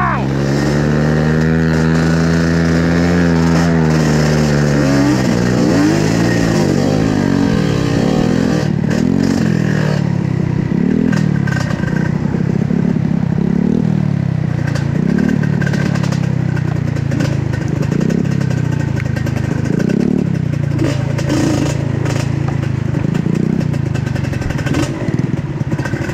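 A motorcycle engine revs and accelerates loudly and close by, its pitch rising and falling through repeated throttle blips over a sustained rumble.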